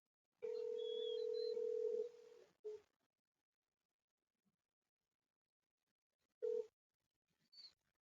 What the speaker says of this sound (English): And now it's ringing.